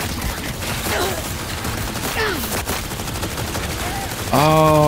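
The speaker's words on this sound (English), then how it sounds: "shoot our way through, I guess." Video game gunfire in Cyberpunk 2077, bursts of shooting under a steady background, ending with a louder tonal sound near the end.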